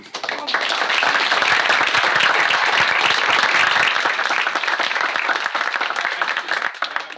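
A dense, loud round of applause from a session audience, steady sustained clapping from many hands that continues unbroken for several seconds before easing slightly at the end.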